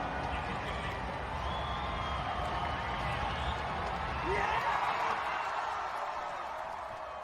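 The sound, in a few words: crowd cheering as a senior dog finishes a race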